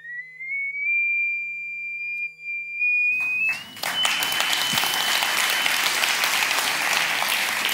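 A frequency generator feeds a pure electronic tone through a sound driver into a metal Chladni plate; the steady whistle-like pitch glides upward, then gives way abruptly to loud sustained applause.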